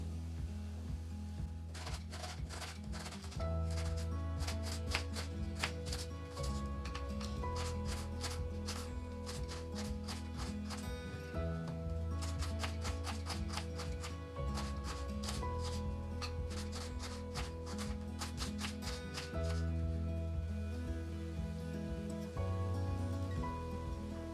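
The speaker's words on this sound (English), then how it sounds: "While my palak is getting blanched, I'll chop off onions." Two large onions are chopped in quick bursts of rapid knife taps on a board, the quiet chopping running under steady background music.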